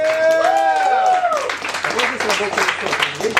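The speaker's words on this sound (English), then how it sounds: "Let's have a big round of applause just for everybody who came out." Short burst of applause and scattered clapping from a small open mic crowd, mixed with voices and whoops, fairly close and moderately loud.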